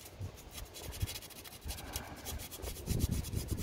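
Sandpaper rubbing by hand over car battery terminal contacts and clamp mating surfaces, a steady close-up rasping scratch with repeated strokes throughout, no talk.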